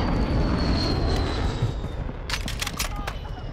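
Close air support aircraft roars overhead in a Call of Duty: Modern Warfare II match, a steady loud engine drone with a faint falling whine, joined near the end by sharp bursts of gunfire.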